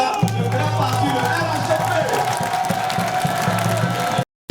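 A crowd at a party gathering in Côte d'Ivoire cheers and applauds to acclaim a leader's nomination, with a steady roar of cheering and clapping under someone speaking over a loudspeaker, ending abruptly.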